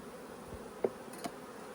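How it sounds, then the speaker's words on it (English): Honey bees hum inside a hive box during a hive split, a faint, steady close buzz with a couple of brief louder passes and no talking. "There's a ton of bees in this bottom box too"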